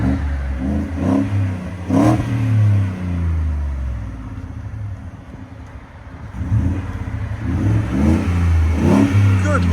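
A 2022 Ford F-150 with a 5.0L Coyote V8 and Borla Pro XS exhaust revving repeatedly up close, loud rising blips over a deep idle rumble, with no talking.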